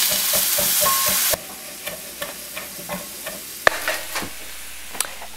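Mushrooms frying in a pan, loud hissing sizzle for the first second, then quieter crackling broken by spatula scrapes and taps on the pan, close and without speech.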